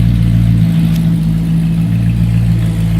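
The 428 V8 engine of a 1969 Ford Mustang Shelby Cobra GT500 idles steadily nearby, a deep even rumble with a strong low hum throughout.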